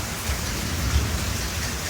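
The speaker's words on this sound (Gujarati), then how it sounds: "વરસાદે તો આજે જોર વરસાદ આવે ને આ જુઓ ખાસ" Heavy rain falling steadily, a constant, moderately loud hiss of drops on surfaces with no talking.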